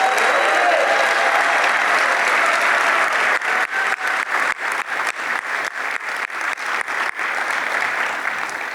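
A city council member at the mayor's annual State of the City address receives steady audience applause. The clapping is sustained and even, shifts to sharper, more distinct claps partway through, and stays full and close throughout.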